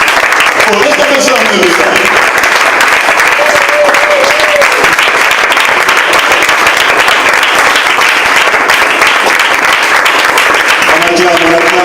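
A church congregation applauding loudly and continuously to acclaim the Lord, with dense massed clapping that fills the space and brief singing or voices rising over it at moments.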